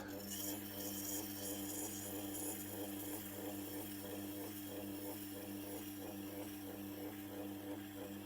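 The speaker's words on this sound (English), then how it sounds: "You want to give it a few passes on the back to really polish the back of that burr" A serrated hunting skinning knife is sharpened, giving a faint, steady rasping of rapid passes against a sharpener over a constant background hum.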